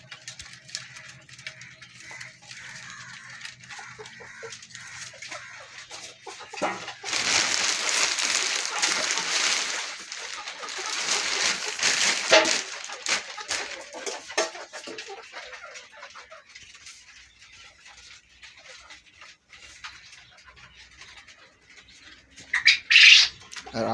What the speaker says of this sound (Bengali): আর এটা হলো টাইগার মুরগ।